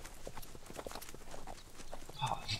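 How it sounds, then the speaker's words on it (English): Horse hooves clip-clop on the ground in the ICO video game, a quick run of soft, fairly faint hoof knocks under low background sound. "Oh, 3 horses."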